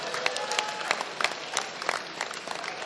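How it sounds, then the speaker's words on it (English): An audience at a political stakeholders meeting applauds, scattered claps at moderate distance forming a light, uneven patter under a faint crowd murmur. "Can we give them a round of applause?"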